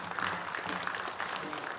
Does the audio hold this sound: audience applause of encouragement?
yes